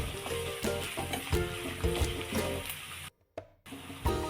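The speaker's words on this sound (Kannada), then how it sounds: "ಈರುಳ್ಳಿ ಚೆನ್ನಾಗಿ ಫ್ರೈ ಆಗಬೇಕು, ಅಲ್ಲಿವರೆಗೂ ನೀವು ಇದನ್ನು ಫ್ರೈ ಮಾಡಿ ಎಣ್ಣೆಯಲ್ಲಿ." Chopped onion frying in oil, a steady crackling sizzle broken by repeated scraping knocks of stirring, close by, with a brief drop to near silence before the sizzle returns.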